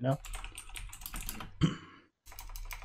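Rapid clacky keystrokes on a mechanical keyboard, close and fairly loud, with a brief pause near the end before typing resumes.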